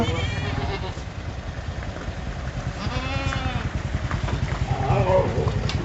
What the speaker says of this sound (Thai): เดี๋ยวพาไปดูลูกแพะเกิดใหม่